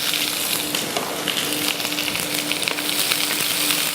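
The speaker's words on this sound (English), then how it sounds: "My pan is on fire, oil. Yeah. I'm gonna put in the onions." Onions crackle in hot oil in a pan while cooking a Nigerian-style fish in coconut cream and peanut butter, making a close, dense and steady sizzle throughout without any talking.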